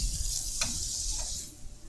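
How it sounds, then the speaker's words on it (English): A steak sizzles in a hot frying pan, a steady close hiss with a brief scraping sound partway through and no voices. "I know that because of the sound of the hiss."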